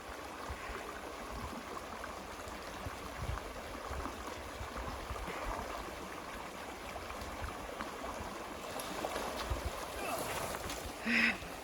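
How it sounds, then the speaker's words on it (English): A creek burbles and trickles steadily at close range, soft and continuous, with faint movement and a brief splash near the end. "Stop by a creek."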